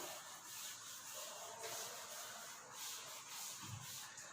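Rubbing written notes off the lower part of a classroom board: a steady, faint, close swishing rub lasting throughout.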